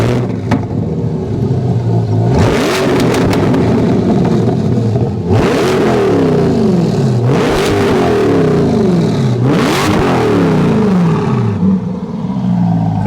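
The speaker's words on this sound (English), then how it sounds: "That's what your AWE exhaust will sound like on your Corvette." A Chevrolet Corvette C8 fitted with an AWE track exhaust revs hard several times, each blip rising to a loud roaring peak and falling back to a burbling idle, close and without talking.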